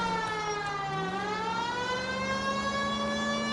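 A police car siren in the L.A. Noire video game wails loudly and continuously, its rising and falling tone sweeping upward partway through, with no voices over it.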